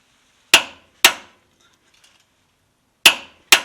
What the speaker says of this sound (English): We have our torque wrench set to 87 foot-pounds.